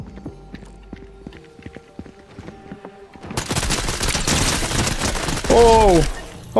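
Scoped burst SMG fire in the Fortnite video game, a loud sustained stretch of rapid shots starting midway after quieter clicks and thuds, with a brief tonal whine near the end.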